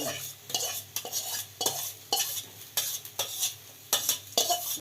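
Boiled toor dal is stirred into grated coconut, a spoon scraping and squelching through the thick mixture in about ten regular strokes, close and fairly loud with no talk.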